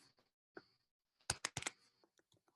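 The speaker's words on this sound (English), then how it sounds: "I'm going to type in" A computer keyboard types a search into a web page; a few faint, scattered key taps lead into a short, quick burst of clicks, then a few more soft taps, quiet and close with no talking.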